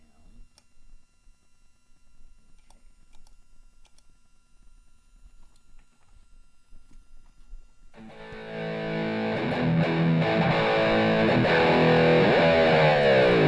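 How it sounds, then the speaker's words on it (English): Quiet faint noise at first, then a loud, fuzzy synth-like electric guitar tone through a Boss SY-1 synth pedal swells in and sustains with shifting harmonics. "There's a guitar sound."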